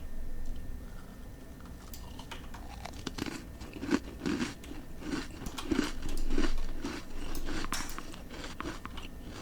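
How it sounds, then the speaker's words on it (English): Cookie being chewed in the psychological horror video game Sentient: a run of crisp, moist crunching bites, close and moderately loud, in an irregular rhythm over a low ambient game background with no talking. "Sounds like very satisfying chewing."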